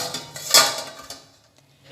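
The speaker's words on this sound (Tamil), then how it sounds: "மேலே இந்த மாதிரி ஒரு பிளேட் வச்சுக்கோங்க." A plate set down on top inside a steaming pot, ready to hold peeled garlic cloves, gives one sharp ceramic-on-metal clatter with a few lighter clinks before it, then fades into quiet.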